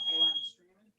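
A fire alarm sounds briefly, a piercing high electronic tone under a voice talking, cutting off after about half a second.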